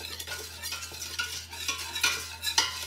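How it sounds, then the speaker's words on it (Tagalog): A spoon stirring milk into a gelatin mixture for mango gulaman, repeated scraping and clinking strokes against the container at an uneven rhythm, close and clear with no talk. "Tapos i-mix naman natin siya para humalo siya doon sa ating gelatin."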